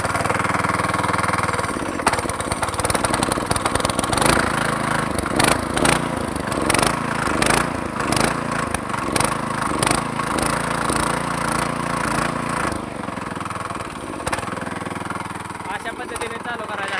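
A rotavator's small engine running steadily after being revved near a brick kiln, a loud, close, buzzing mechanical drone with rhythmic pulsing throughout and someone talking over it.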